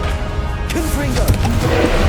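Confringo blasting spell from Hogwarts Legacy on PS5 bursts with a couple of sharp, crackling impacts amid game effects and a character's voice calling out, all loud and close.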